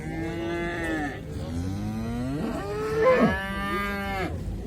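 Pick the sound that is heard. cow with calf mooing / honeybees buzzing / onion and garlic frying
cow with calf mooing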